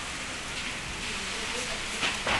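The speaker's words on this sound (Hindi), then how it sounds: "कितनी भयंकर बारिश आ रही है" Heavy rain pours down in a steady, dense hiss with a faint voice underneath and a couple of louder bursts near the end.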